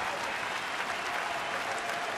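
A sellout baseball crowd roars in a steady, dense wash of cheering and clapping that stays loud and even throughout, with no clear voices standing out.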